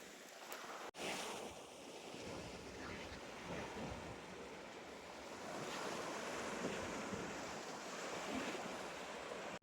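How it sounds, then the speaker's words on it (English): Sea waves wash along a seafront in Greece, a steady, soft surf rolling in with gusts of wind buffeting the microphone. "A nice walk along the seafront, soaking my feet in the salt water."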